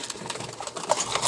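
Racing pigeons at feeding time, soft cooing and fluttery bird sounds close by in a short burst, with some light tapping and rustling.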